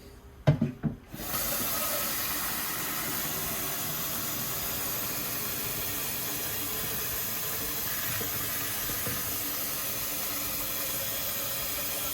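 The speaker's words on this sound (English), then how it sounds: "Adding 4 liters of water to the jug here" Water pours steadily from a tap into a jug to make homemade white wine, a constant hiss and rush that runs unbroken after a few short knocks at the start.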